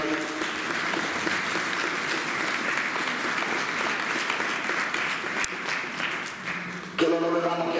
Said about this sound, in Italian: facciamo un grosso applauso